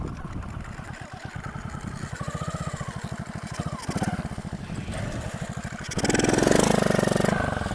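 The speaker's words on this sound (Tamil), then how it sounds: "அடே அப்பா, ஸ்கிட்டெல்லாம் பயங்கரமாக போடுதுங்க வண்டி." A BMX bike fitted with a motorbike engine putters along with a pulsing small-engine throb, revving harder near the end as it rides and skids close by.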